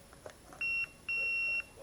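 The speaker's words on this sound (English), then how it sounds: "If I turn it on, it should make some noise." A 3D printer power supply is switched on, giving two clear electronic beeps in quick succession, a short tone followed by a longer sustained one, loud and close over quiet room background.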